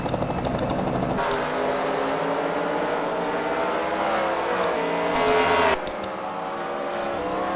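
Race cars roaring around a track during a CWRL Fight Night main event at The Freedom Factory, a steady loud engine drone with shifting pitch and a brief surge near the end, no talk over it.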